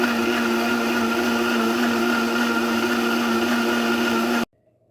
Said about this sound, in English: all you do is mix it all together in the blender